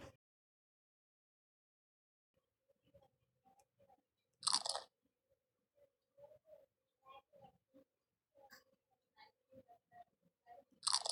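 Cartoon parrot crunching crackers in a Peppa Pig matching video game: a series of short, crisp bites and crunches in an irregular rhythm, close and clear, with a few brighter chimes or game effects standing out.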